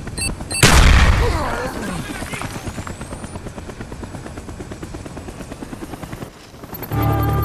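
A care package helicopter in Call of Duty Black Ops arrives with a steady, thumping rotor pulse after a loud burst, as gunfire and a voice come through underneath.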